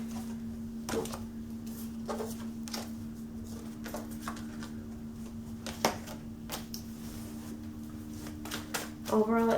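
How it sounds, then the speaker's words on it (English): A deck of tarot cards is shuffled at close range, the quiet riffles, taps and slaps coming in irregular bursts over a soft steady hum. "Today this deck has been so hard to shuffle."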